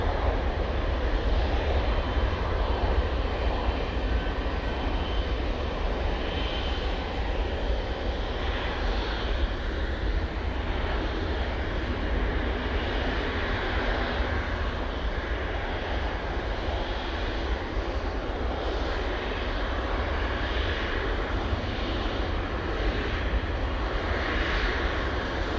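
An Etihad airliner landing at Manchester Airport sends a long, steady jet engine rumble from moderate distance, slowly swelling and easing with no voices heard.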